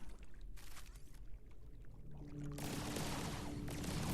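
Gunfire from a newly unlocked gun in the video game Project Tower, on a watery level, a dense rapid burst of shots that swells into a loud continuous roar over a steady watery background.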